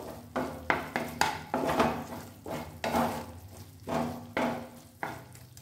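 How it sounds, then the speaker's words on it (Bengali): A spoon stirs paneer pasanda gravy in a pan, scraping in about ten quick, rhythmic strokes over a soft sizzle, close and fairly quiet. "দেখুন, গ্রেভিটা কিছুক্ষণ নাড়াচাড়া করবো।"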